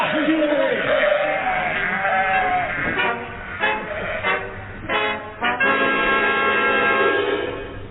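Sheep running loose through central London in a radio comedy sketch bleat in several loud, close, overlapping calls over a continuous noisy background.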